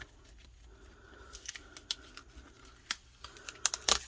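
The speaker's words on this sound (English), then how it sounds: "I like to tear my vinyls because it makes it easier than trying to go all the way around over the design" Heat transfer vinyl sheet torn by hand around a t-shirt design, a series of sharp crackling rips and crinkles of varying loudness, growing denser and louder near the end, with no voices.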